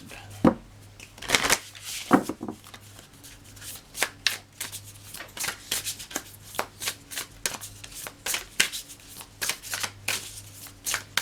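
Tarot cards being shuffled by hand in a quiet room, a long run of quick riffling flutters and soft slaps repeating at an irregular rhythm for about eleven seconds.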